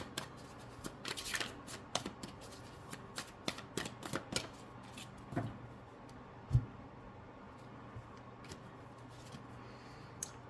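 Tarot cards shuffled by hand, a run of soft riffling flicks and sharp snaps spread unevenly across the stretch, close and fairly quiet with no voice.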